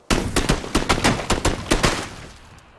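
Rapid bursts of gunfire in the video game PUBG: a dozen or so sharp, loud shots in quick, slightly uneven succession over about two and a half seconds, then a fading tail, with no voices.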